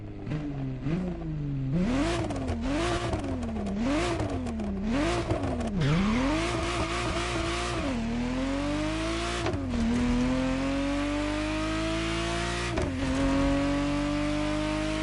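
A Ferrari Testarossa in the racing video game The Crew Motorfest, its engine revving loud and close, pitch climbing and dropping through a run of quick gear changes and then holding a long steady pull, with no talking.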